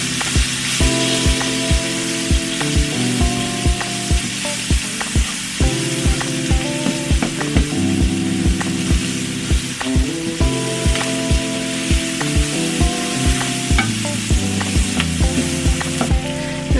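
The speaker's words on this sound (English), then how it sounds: "And you just want to saute these onions up" Half an onion sautés in oil in a pan, giving a steady, dense sizzle that runs the whole time. A tonal musical backing plays alongside it.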